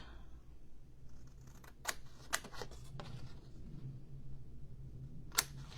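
Scissors trim a piece of pearlescent paper in a card-making session with a few crisp, close snips spaced apart over quiet background noise.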